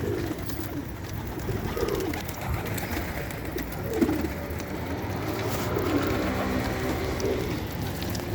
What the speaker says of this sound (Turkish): Kuşlar genel itibariyle böyle arkadaşlar.